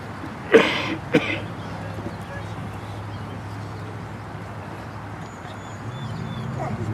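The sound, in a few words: dog barking at war dog memorial ceremony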